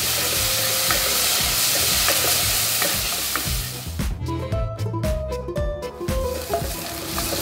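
Ground spice paste sautés in about 20 ml of oil for a red-spiced duck curry, giving a steady close sizzle with repeated stirring scrapes, and tonal music-like notes join in partway through.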